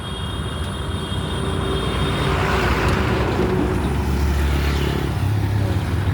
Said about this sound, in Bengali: দু একটা গাড়ি আসছে